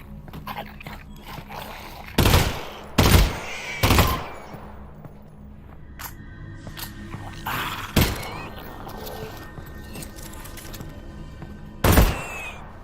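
A gun firing in burst mode in the video game Half-Life: Alyx, with about five short, loud bursts spread apart over quieter ambient game sound.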